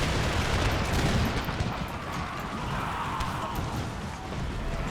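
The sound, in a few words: guns firing in video game Empire: Total War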